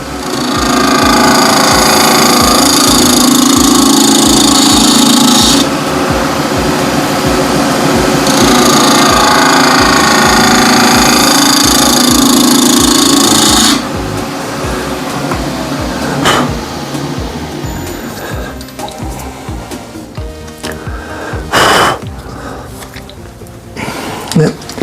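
A wood lathe spins a burl and epoxy resin blank for a shaving brush handle while a spindle gouge cuts it, producing a loud, steady, rough scraping whir with shifting tone, then quieter intermittent cuts and knocks.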